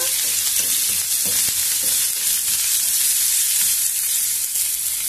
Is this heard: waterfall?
no